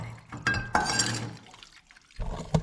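Old gas from a vintage Trail Jet mini bike is poured into a cup, giving a few short liquid splashes and trickles with gaps of near silence between them, close to the microphone.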